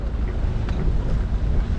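Wind of about 15 knots while sailing a boat off the Kenyan coast, a steady loud rush and buffeting against the microphone with no voices.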